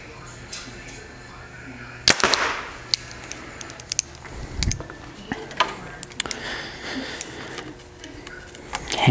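A compound bow is shot once with a sharp, crisp snap of the string, followed by faint clicks and small handling noises in a quiet setting.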